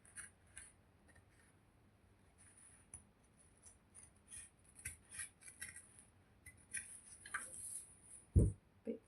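Scissors cut fabric for a kameez with sparse, quiet snips and light metallic clicks at an uneven pace. A louder thump comes near the end, and no one speaks.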